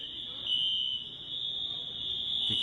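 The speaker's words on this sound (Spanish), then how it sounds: "Eso es una alarma en un aeropuerto." An airport's T3 fire alarm sounds as a continuous shrill, high-pitched electronic tone, steady and fairly loud over a low murmur of background noise.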